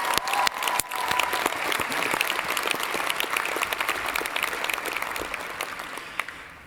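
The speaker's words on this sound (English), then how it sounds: "Let's have a round of applause for that." Enthusiastic applause from a sizable crowd at a college convocation, steady clapping that swells quickly and holds before tapering off near the end.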